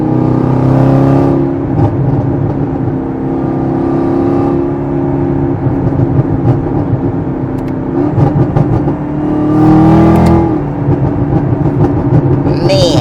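A tuned Camaro ZL1 engine revs repeatedly, its tone rising and falling with a high supercharger-like whine riding above the rumble, loud and close, with talking in between.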